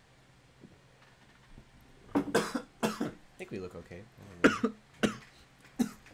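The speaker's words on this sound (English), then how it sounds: "Please don't cough through the mic, sir." Several coughs ring out close to the microphone in a podcast setting, loud and harsh in irregular bursts, with a man's brief speech between them.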